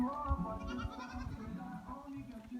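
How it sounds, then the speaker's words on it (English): Boer goats bleating during dipping on a farm, a few nasal calls overlapping at close range with faint background voices and farmyard noise. "today we are dipping our goats"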